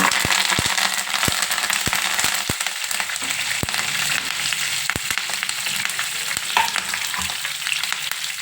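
Curry leaves drop into hot oil with fried whole spices for a brinjal masala curry, setting off a loud, steady frying hiss broken by sharp, scattered crackling pops.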